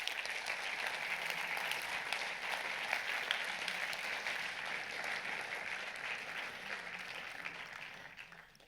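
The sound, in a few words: audience applause at award ceremony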